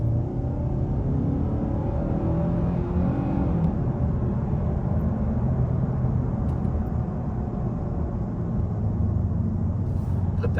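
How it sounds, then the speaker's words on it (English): A 2024 Hyundai Sonata SEL drives in sport mode with synthesized engine sound piped into the cabin, giving a steady low rumble and road hum throughout, with no talking. "So you hear a bit of pumped in audio from the car."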